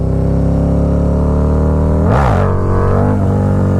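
A motorcycle at about 30 mph in second gear gives a sharp, loud throttle blip for a wheelie, the engine surging briefly over a steady drone before settling back.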